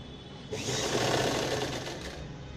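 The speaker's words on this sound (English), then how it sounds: "and keep stitching, leaving about a centimeter" A sewing machine runs steadily while stitching the folded hem of a party wear gown, starting abruptly after half a second of quiet and holding a loud, continuous whir close by with no talk.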